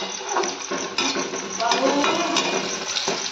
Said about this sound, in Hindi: इधर मैं बुन रही हूँ चिवड़ा